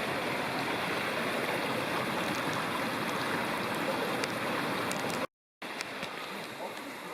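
Water rushing steadily over rocks at a stream crossing on a wilderness backpacking trail, a close, continuous broadband wash that cuts out briefly near the end and then resumes.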